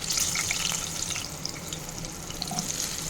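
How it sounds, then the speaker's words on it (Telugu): Two green chillies, cut into large pieces, fry in about four spoons of oil on a flat pan, giving a soft, steady sizzle with faint crackles that stays fairly quiet throughout. "పెనం పెట్టేసి ఒక ఫోర్ స్పూన్ ఆయిల్ పెట్టాను ఇంకా ఒక టూ మిర్చి ఇట్లా పెద్ద పెద్ద కట్ చేసి పెట్టేశాను"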